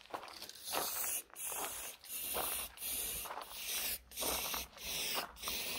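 Aerosol paint sprayed from a can onto a surface in repeated bursts, each loud hissing spray lasting about a second, separated by brief pauses.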